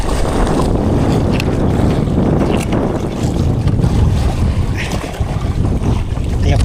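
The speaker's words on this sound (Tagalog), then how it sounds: "Ay, kalaki ng alon." Big ocean waves surge and wash around a fishing boat on the open Pacific, with heavy wind buffeting the microphone in a loud, continuous roar.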